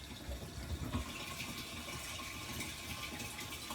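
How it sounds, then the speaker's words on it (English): Water from a hose pipe connected to an outside inlet gushes steadily into a campervan water tank, a continuous close hissing rush with faint gurgles near the start. "I've got my hose pipe connected to the outside water inlet."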